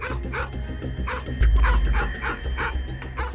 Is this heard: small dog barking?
yes